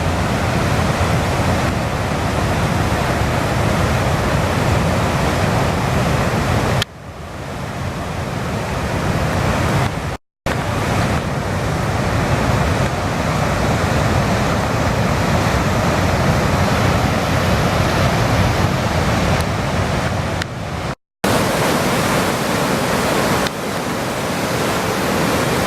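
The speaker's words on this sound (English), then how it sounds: "Here's the falls leading to the chasm" The Ausable River runs high over its falls into the chasm, a loud, dense, continuous roar of rushing water heard up close, broken only by two brief cuts.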